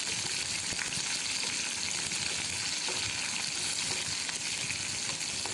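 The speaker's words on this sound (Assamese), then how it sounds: "পিঁয়াজখিনি সুন্দৰকৈ ভাজি ল'ম।" Onions frying in hot oil with browned cumin seeds for restaurant-style dal fry, a steady soft crackling sizzle with occasional faint stirring scrapes, close and fairly quiet, no talking.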